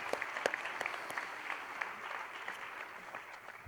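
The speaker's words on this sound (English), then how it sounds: "it's okay to applaud for them too" Faint, distant applause from an audience at a school district awards celebration greets the award presenters, a steady patter of clapping with a few sharper claps standing out near the start.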